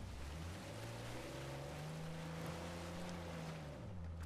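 Low steady drone of a motor engine in Uncharted 4, with a hum that rises and falls gently in pitch against a faint watery background, heard alone.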